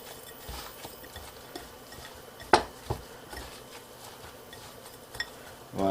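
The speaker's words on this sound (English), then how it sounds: "Mix it very well" Cheeseburger meat mixed with crushed Doritos and salt, with soft, quiet clinks of a utensil against a bowl, one sharper knock and a few light scrapes at low level.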